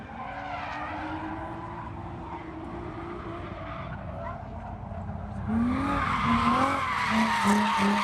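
A Nissan Z drifts on a skid pad at Lebanon Valley, tires squealing in long wavering howls over a droning engine, the screech growing louder and more intense toward the end.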